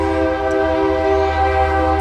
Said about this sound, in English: See, and the train too, it's so noisy over here.